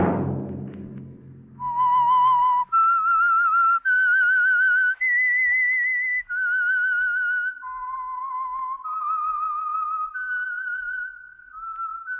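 A melodic radio-program whistle signal for The Whistler, a clear solo tune of sustained whistled notes rising and stepping between pitches, heard alone after a brief low rumble at the start.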